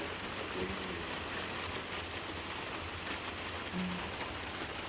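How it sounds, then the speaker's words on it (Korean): Quiet, gently falling rain makes a soft, steady hiss and patter throughout, faint and even, with no wind and no voices. "조용히 내리는 비가 너무 반갑고 시원하고 좋아요"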